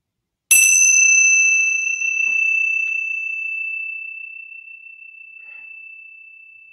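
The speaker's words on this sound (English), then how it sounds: "I notice the sound of the bell, the sound of the bell fading, and then the quiet that followed" A single bell is struck once, giving a bright, clear ringing tone that sustains and slowly fades into quiet over several seconds, with no voices.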